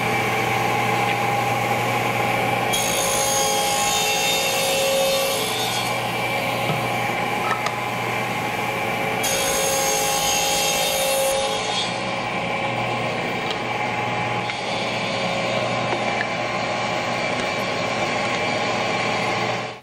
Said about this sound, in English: So I have my table saw set up with a blade height of about 1/4 inch and about 1/8 inch space between the fence and the tip of the blade.